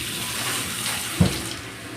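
Water gushes hard and steady from a newly laid pipe line, a strong rushing flow with one brief splashy knock partway through.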